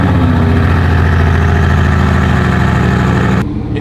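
A Bugatti Veyron engine runs loud and steady right up close, a dense low droning roar that continues evenly before cutting down sharply near the end.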